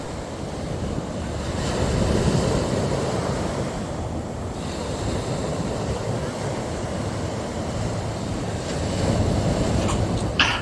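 Waves washing on a Florida beach, a continuous close rumbling surf with gusty wind buffeting the microphone, swelling and easing throughout.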